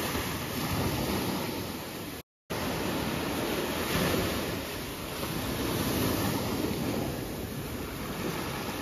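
Ocean waves wash constantly beneath an overwater villa platform at Taj Coral Reef Resort in the Maldives, a loud, unbroken surf roar with a brief dropout and no talking.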